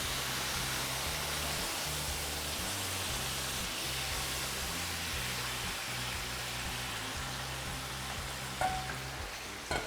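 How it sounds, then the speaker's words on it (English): A 28-ounce can of tomatoes with their juice hitting a hot pan, producing a dense, even sizzle and splatter held steadily throughout with a couple of faint knocks near the end. "now I'm going to add a can of tomatoes, a 28-ounce can of tomatoes with the juice. Going to get a little splattery."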